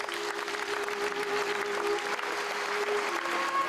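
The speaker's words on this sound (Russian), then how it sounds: "Аплодисменты не стихали и сегодня в зале театра." A theatre audience applauds continuously, a thick, even wash of clapping from a full hall, with a faint sustained musical tone underneath.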